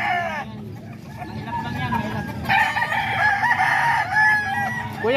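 A young Boston-bloodline rooster, a stag, crows loudly and close several times, its strained, wavering calls rising over background chatter at a poultry market.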